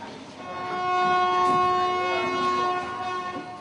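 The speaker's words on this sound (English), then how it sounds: "The train starts again, escorted by soldiers on the right and left." A five-carriage passenger train escorted by soldiers pulls away again, its horn sounding a sustained tone over the low rumble of the moving cars.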